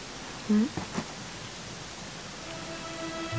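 Rain falls steadily in Dragon Quest XI, a continuous even hiss under brief game sound effects and a faint tone, with no talking.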